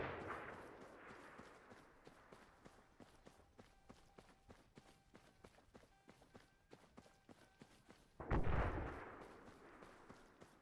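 Gunfire and artillery in ARMA 3, a run of rapid rhythmic shots with distant rumbling, then one louder close blast near the end, quiet overall.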